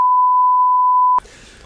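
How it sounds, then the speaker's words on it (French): A single loud, steady censor bleep, a pure electronic tone lasting just over a second, then cutting abruptly to quiet room sound. "on va biper ça"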